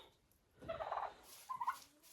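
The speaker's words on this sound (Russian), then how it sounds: "Индюки очень любят траву." Domestic turkeys gobble in a farmyard while being fed grass, a burst of rapid warbling calls followed by a shorter second gobble, moderately close with no talking.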